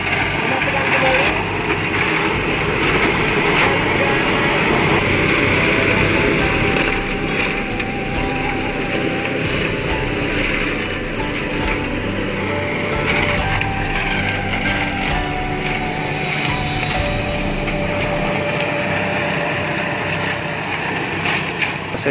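Machine grinding leaves for fermented goat feed, a loud continuous mechanical roar with rattling, whining tones and crunching throughout, with a voice faintly present underneath.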